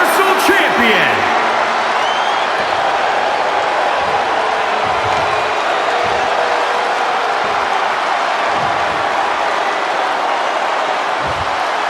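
A capacity arena crowd in the WWE 2K20 wrestling game cheering continuously, a loud, dense roar of voices and applause that stays steady throughout, with a brief sweeping effect at the very start.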